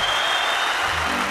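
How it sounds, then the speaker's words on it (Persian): A concert audience at an Afghan Star music show claps in a dense, continuous wash of applause, loud and close, with faint musical tones underneath. "کف بزنین و تشویقش کنین"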